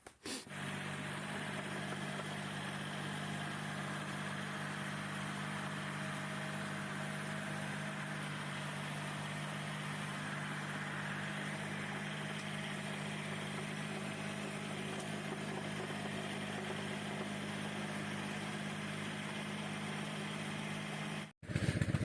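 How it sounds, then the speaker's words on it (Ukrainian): A small Kubota tractor engine idles steadily with a constant low hum and drone, unchanging throughout before cutting off abruptly near the end. "Як виявилось, в нього є тракторець, кубота."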